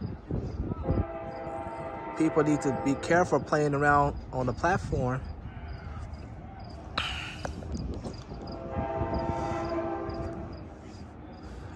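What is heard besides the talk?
passenger train arriving at station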